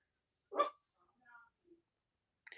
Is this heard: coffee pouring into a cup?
no